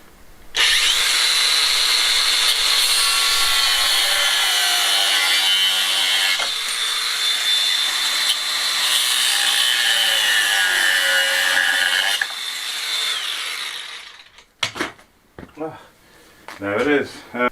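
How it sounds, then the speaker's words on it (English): An angle grinder cuts off wooden pieces on a new staircase handrail, a loud, steady whine running about eleven seconds before winding down, followed by a few short knocks and clatters. "then we'll just chop the things off with the old grinder"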